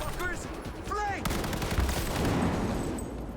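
Gunfire in Cyberpunk 2077, a loud sustained burst of rapid shots with a sharp report partway through, mixed with game sounds and brief voices.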